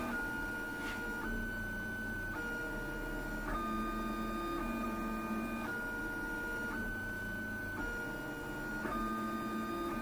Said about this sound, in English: Now it's feeding the filament in and it starts printing.